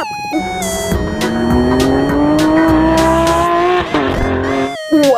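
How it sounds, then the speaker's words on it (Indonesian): A toy race car gives off a loud, continuous electronic engine sound with rising, revving tones, broken briefly near the end. "Mobil balap."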